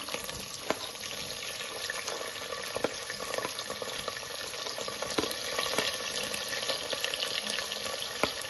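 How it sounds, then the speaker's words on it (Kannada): Chopped onions fry in oil and ghee in a pressure cooker with cinnamon, cloves and fennel for a veg pulao, giving a continuous close sizzle with intermittent crackles and pops and no talking. "ಈರುಳ್ಳಿ ಸ್ವಲ್ಪ ಫ್ರೈ ಆಗಲಿ"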